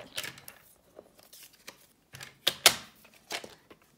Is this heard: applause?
no